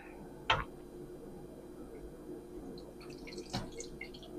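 Hot beef tallow straining through a cheesecloth strainer, with two distinct drips or taps about three seconds apart over a quiet, low background.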